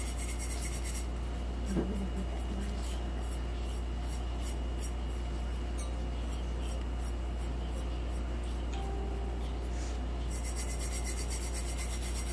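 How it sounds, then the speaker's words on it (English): Hand rubbing across a tumbler's coated surface toward a smooth finish makes a steady, close brushing rasp in quick repeated strokes under a constant low hum, with no talk. "But you just keep rubbing until you get that smooth finish."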